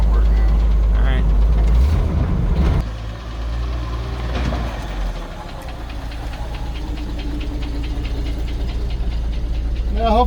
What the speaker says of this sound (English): hopefully the camera can pick it up, that tick, tick, tick sound